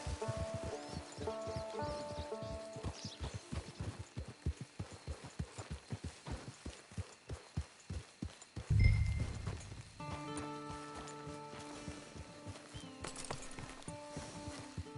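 Horse hooves clip-clop steadily in a video game, a close, even rhythm of light strikes for several seconds. A snort is heard, then soft tonal music carries on as the hoofbeats fade.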